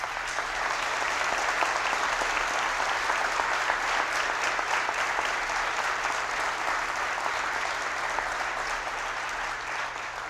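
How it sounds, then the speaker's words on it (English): An audience applauds at the Delaware State of the State address, a sustained, even roar of many hands clapping that fills the room at a steady level from start to finish, with no speech over it. "Let's give him a round of applause."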